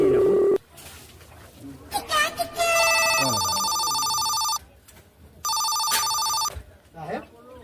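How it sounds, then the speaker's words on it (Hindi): A telephone rings in two long electronic bursts with a short pause between them, and people speak before and around the rings. "फोन आवता है"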